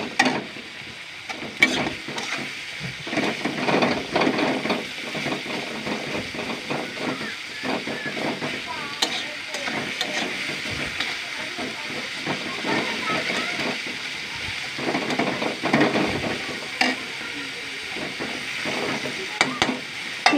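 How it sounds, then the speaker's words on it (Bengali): A continuous hissing sizzle comes from onions frying in a pan, with occasional stirring scrapes, heard up close at a steady moderate level. "পেঁয়াজগুলো ভালোভাবে ভাজা হোক।"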